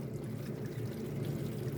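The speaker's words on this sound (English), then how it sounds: "I'm going to put in some hot water on there." Hot water is poured steadily onto a block of sauce, giving a continuous close splashing pour with no pauses.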